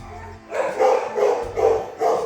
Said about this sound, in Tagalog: Nadidinig niyo yan. So, nandiyan sa loob yung mga aso.